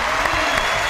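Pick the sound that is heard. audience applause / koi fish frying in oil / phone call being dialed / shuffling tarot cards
audience applause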